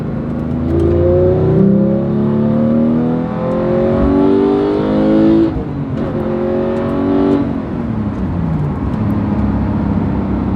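A 2018 Porsche 911 GT3 with a manual gearbox revs loudly and steadily, pitch climbing through several gear changes, the roar rising and dropping back between shifts with no talking.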